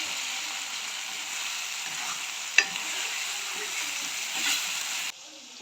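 Tomatoes sauté in oil for a Jaffna-style prawn curry, giving a soft, steady sizzle with a sharp clink midway and a brief stirring scrape, cutting off quieter near the end; no one speaks.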